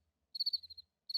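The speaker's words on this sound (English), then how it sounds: "you start to hear the faint whisper of crickets in the night" Crickets chirping at night, a short pulsed trill of several rapid chirps followed by a pause and another brief burst, faint and isolated against near silence.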